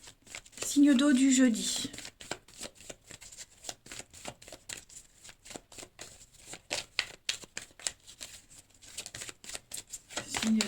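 Tarot cards being shuffled and drawn for a Thursday reading, a long run of rapid soft riffling clicks and flicks close by, with someone speaking briefly over the start.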